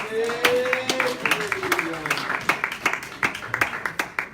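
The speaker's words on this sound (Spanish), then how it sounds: "¿Cuántos pueden darle un aplauso al Señor en esta noche?" A church congregation claps for the Lord at an evening service, scattered individual claps that thin into a sparse irregular rhythm, with a voice and a tone audible early on.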